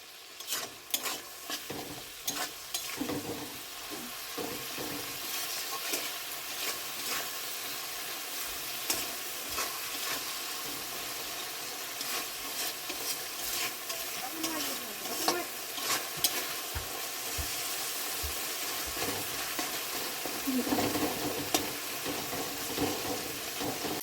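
Ginger and cumin paste with a little sugar fries in a pan for a chana paneer dish, giving a continuous soft sizzle broken by repeated scraping and stirring strokes, with no talking.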